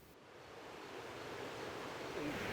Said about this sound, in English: It's flowing water, it's rushing.